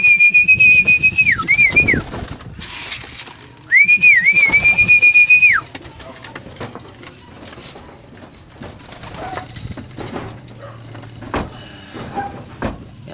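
Racing pigeons coo in two clear bursts near the start, then the birds fall quiet against a low background of rustling and faint ambient noise.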